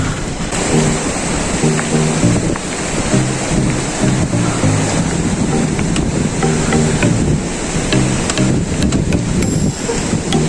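A rain-fed stream rushes continuously nearby, its broad loud roar steady throughout, with a few faint clicks over the flow.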